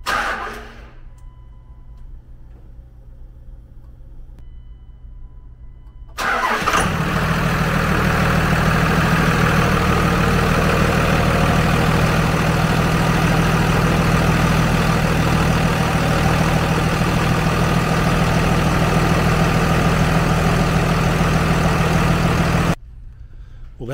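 Second-generation Dodge 5.9 Cummins diesel truck cranking briefly then firing up and settling into a steady, loud, close idle that runs evenly before cutting off near the end; a faint quieter hum precedes the start.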